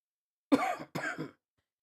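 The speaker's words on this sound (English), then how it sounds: "That cough really wanted to come out." Two quick, close coughs break an otherwise silent moment, the second slightly softer and drawn out.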